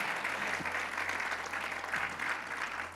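A church congregation applauds during a Wednesday prayer service. The clapping is dense and steady with a low hum underneath, and it keeps an even level throughout.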